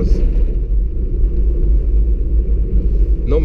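A 1992 Citroen ZX 1.4i petrol car driving in fourth gear at about 50 km/h, a loud steady low engine rumble heard from inside the cabin without any speech.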